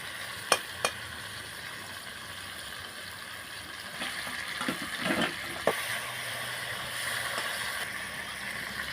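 Tilapia curry sizzles gently in a pan as a spoon stirs it, with a few sharp clinks early on and a louder burst of spattering midway, low and close with no talking.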